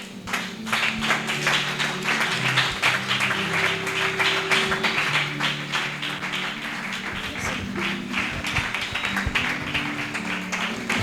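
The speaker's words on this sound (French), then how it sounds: "j'appelle sous nos acclamations" A church conference audience claps and cheers continuously in a large hall, with dense, loud, even applause and a low murmur of voices under it throughout.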